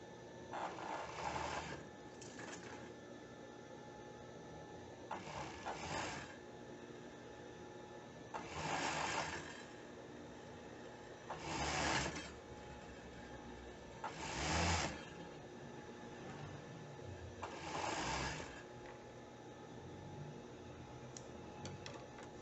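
A sewing machine stitches a swimsuit seam in short repeated bursts, each a few seconds long, separated by quieter pauses; the machine is fairly faint and close.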